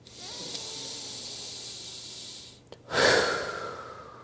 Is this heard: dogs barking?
no